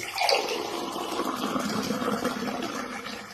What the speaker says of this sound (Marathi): खाली एक ग्लास आणि त्याच्यामध्ये हा एक पूर्ण स्पून आणि वरून फक्त पाणी